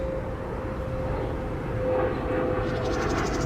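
An airplane flies overhead, a steady broadband engine roar with a sustained tonal hum that swells slightly toward the end, heard alone at a moderate distance.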